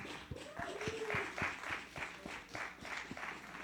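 A scattered group claps in loose, uneven rhythm, a soft patter of hands with some cheering voices mixed in, fairly quiet and a little distant.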